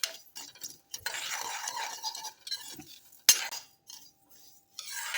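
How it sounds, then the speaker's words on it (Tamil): Millet flour dry-roasts in an empty pan, stirred with a utensil that gives irregular scraping and clinking strokes with short pauses between them, heard close up and alone. "இந்த மாதிரி வெறும் வாணலியில் கொஞ்சம் கொஞ்சமாக சேர்த்து நல்லா ஃப்ரை பண்ணிக்கணும்."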